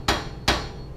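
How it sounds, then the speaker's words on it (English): Two sharp metallic hammer blows on a pry bar wedged between a Jeep Wrangler JK hub and knuckle during hub bearing removal, spaced about half a second apart, close and loud with no talking. "take a hammer and a pry bar and just wedge it in between the hub"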